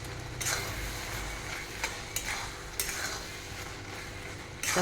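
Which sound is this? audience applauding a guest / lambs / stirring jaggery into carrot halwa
stirring jaggery into carrot halwa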